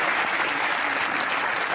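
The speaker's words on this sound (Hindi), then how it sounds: "अगर हैं तो फिर से छोटी सी तालियां बजाइए" A studio audience on a Pakistani comedy talk show gives a short, steady round of clapping, dense and even throughout with no voices on top.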